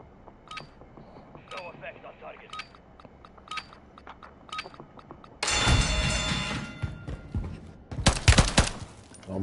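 Gunfire in the video game Warzone: a string of sharp single shots, then two dense bursts of rapid automatic fire, loud and close.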